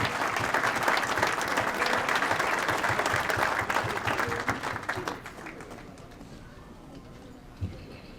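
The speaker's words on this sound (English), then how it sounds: "Let's give them a big round of applause." An audience at a Martin Luther King Day breakfast applauds veterans standing to be recognized, producing loud, dense clapping that tapers off after about five seconds into quieter room noise.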